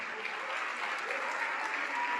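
A church congregation applauding during a service, dense steady clapping from many hands that fills the room evenly and continuously.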